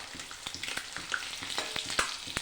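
Eggs frying in hot oil in a wok make a close, continuous crackling sizzle with sharp pops and spatters, alone and without talk.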